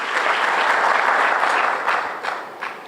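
Audience applause at a live event with a Finance Minister fielding questions, a dense steady round of clapping that fades toward the end.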